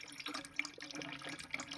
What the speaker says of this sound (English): Here's a small pipe coming into the tank. You see it's filling up at a good rate